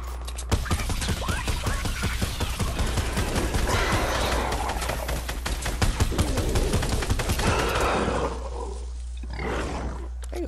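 Rapid gunfire from a battle-royale video game shootout, dense volleys of shots and roaring bursts filling the scene continuously, loud and close, with the firing thinning out near the end; no talking.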